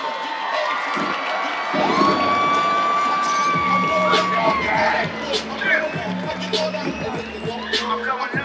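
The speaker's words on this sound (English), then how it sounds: "Thunderous applause from the audience." An audience at a men's physique bodybuilding competition at the Olympia claps, cheers and whoops loudly and continuously, with shouts and a whistle rising from the crowd.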